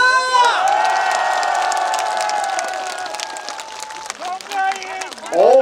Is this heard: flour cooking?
no